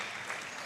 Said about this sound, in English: giving the biggest applause of the day, rightfully so